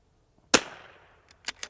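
A single sharp crack from a precision rimfire rifle fired at a steel target, close and loud with a short decaying tail, followed by faint distant pings or echoes.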